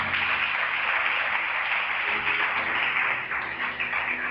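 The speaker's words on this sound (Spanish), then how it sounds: "¿Cuántos le aplauden al Señor?" Congregation in a church clapping together, a sustained, dense wash of many hands applauding at an even level, with a faint voice underneath.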